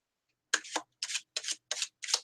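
Tarot cards being shuffled in five quick riffling bursts with short pauses between them, crisp and close, with no talking.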